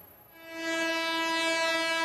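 A Mumbai suburban local train on the Badlapur–CSMT line near Ambernath sounds a steady horn that swells in and holds loud and close, its tones ringing out over the approach.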